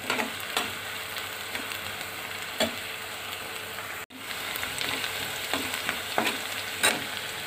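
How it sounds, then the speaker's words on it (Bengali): Shrimp and onions frying in a pan on the stove for a home-cooked lunch, with a soft continuous sizzle and crackle broken by occasional scraping stirs and a brief cut partway through. "চিংড়ি মাছের পেঁয়াজগুলো নেড়ে ছেড়ে ভেজে নিব।"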